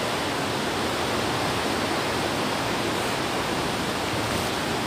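Flowing water at an outdoor picnic spot, a steady broadband rush like a stream or small waterfall, constant and fairly loud with no voices over it.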